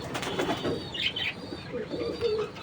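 Jacobin pigeons coo in low, murmuring phrases with brief bursts of wing flapping, close by in a loft with steady background noise.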